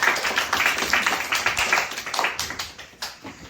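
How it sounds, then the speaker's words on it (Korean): Students in a classroom clap together in a dense, lively round of applause, close and steady for about three seconds before thinning out. "오늘 여러분들이 참 박수를 시작하겠습니다."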